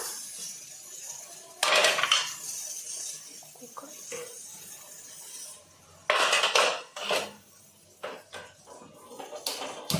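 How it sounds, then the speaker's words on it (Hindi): Metal pots and utensils clank and clatter in bursts as a pressure cooker of dal is placed on the stove, a few loud knocks and scrapes close by with quiet gaps between. "कुकर चढ़ा दिया मैंने दाल का।"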